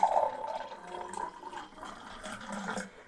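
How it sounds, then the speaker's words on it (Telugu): Water, plain or chilled, is poured in a steady, soft splashing trickle that fades slightly over a few seconds, with no talking. "ఇప్పుడు ఇది కొంచెం వాటర్ పోయింది, నార్మల్ వాటర్ కానీ కూలింగ్ వాటర్ కానీ"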